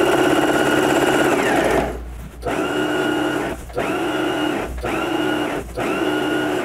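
A sewing machine stitching a shirred blouse runs in steady, loud whirring bursts, stopping briefly several times between runs as the fabric is adjusted, close to the machine with no talk.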